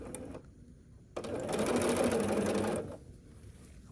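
A sewing machine stitching quilt block pieces runs in one steady, buzzy whir for about a second and a half at close range, with quiet handling noise before and after.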